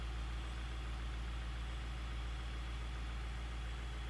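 A 2004 Ford Thunderbird's engine idles in a steady, low, even drone, close by and unbroken, with no voices over it.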